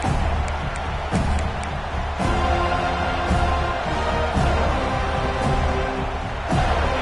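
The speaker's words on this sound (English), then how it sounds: "This crowd ready to make its presence known." Crowd noise fills a stadium in a football video game, a constant roar with scattered sharp claps and cheers rising through it, steady and fairly loud.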